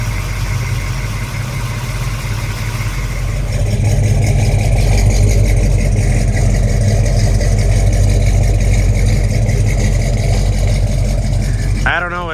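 A 1970 Chevy Chevelle SS 396 big block V8 idles on a cold start, a deep, steady rumble that thickens and grows louder partway through, close and continuous, with a brief rising whine at the very end.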